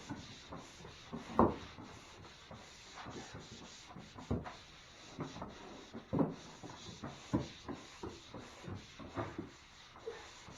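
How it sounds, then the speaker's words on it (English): 150-grit sandpaper rubs across water-damaged drywall in short, faint scraping strokes with an uneven rhythm, close by and alone. "sand it with 150 grit"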